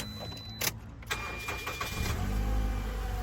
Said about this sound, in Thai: มาครับเดี๋ยวเราไปลองฟังเสียงเครื่องยนต์กันสักนิดนึง